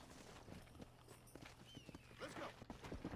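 Horse hooves clip-clop steadily on the ground in the Red Dead Redemption video game, with a brief whinny partway through and faint game ambience underneath.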